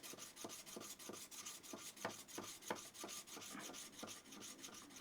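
A scissors blade scrapes back and forth across a 400 grit sharpening stone in quiet, rhythmic rasping strokes, steady and close with no talking.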